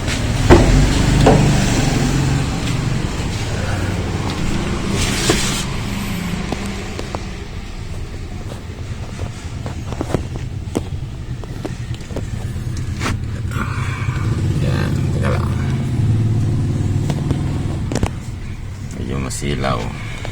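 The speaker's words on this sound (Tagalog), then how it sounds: "Check natin yung andar, paandarin natin." A Toyota Corolla Bigbody GLi with a rough idle and high RPM fault is started and runs with a steady low engine rumble close by, with people talking over it throughout.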